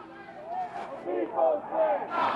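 A crowd of protest demonstrators marches in the Lathrop Homes area of Chicago, chanting and shouting in unison, voices rising and swelling at a moderate distance.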